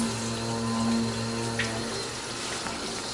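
Liquid pump straining to pull water through about three metres of hose in a home RIMS brewing setup: a steady low mechanical hum with tonal whine and faint watery trickle, continuous and close, no flow surge.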